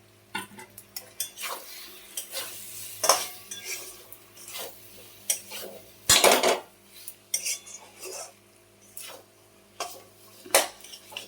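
Mashed boiled potato being stirred into spice masala in a pan, heard as a series of close metallic scrapes and clinks of a spoon against the pan over a faint sizzle, with uneven pauses and no talking.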